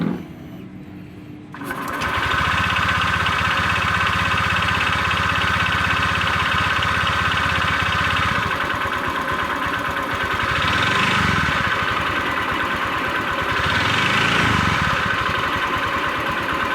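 Honda Vario 125 scooter engine idling after an oil change and oil treatment on an older bike; it starts up after a brief quiet moment, then runs as a steady, close buzzing idle with two slight rev swells and no speech.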